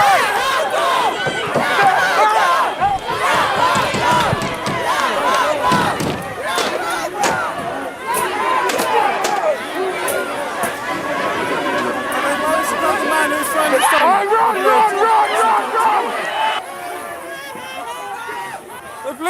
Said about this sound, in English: the crowd is jubilant